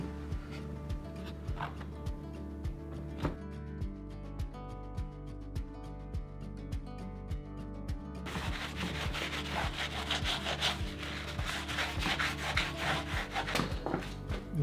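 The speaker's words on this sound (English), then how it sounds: "I'm just using a piece of scrap wood to spread the glue out" A piece of scrap wood drags back and forth over glue on a board for a DIY cake plate, a steady near rubbing and scraping in repeated strokes that grows denser and harsher toward the end.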